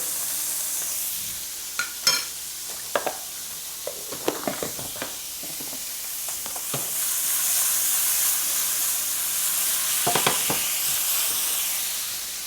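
Butter sizzles in a hot pan while shrimp cook, a continuous hissing fry broken by sharp spits and crackles, with stirring clatter, close and fairly quiet.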